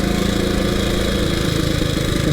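A 1926 HRD Model 80 motorcycle engine runs steadily and loud throughout, a low rumbling idle that builds slightly toward the end with no voices.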